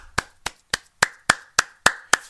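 Eight sharp hand claps in an even, brisk rhythm, close and loud, with no talk around them.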